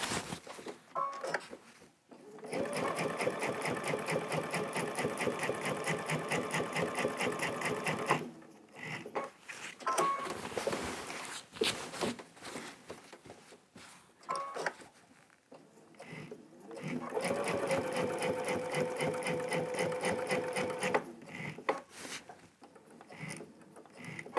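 A sewing machine with a walking foot stitches a quilt in long fast runs of rapid even clatter, pausing briefly between bursts, then resuming for another sustained run near the end.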